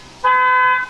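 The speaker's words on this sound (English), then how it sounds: "And that's an alarm." A single loud, steady electronic alarm tone sounds for just over half a second, close by, then stops.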